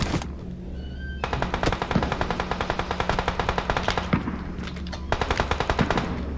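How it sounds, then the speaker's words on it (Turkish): Rapid automatic gunfire from the mobile battle royale game PUBG Mobile, loud, dense bursts firing almost continuously with brief pauses, alone without talk. "Oğlum herkes bana mı sıkıyor?"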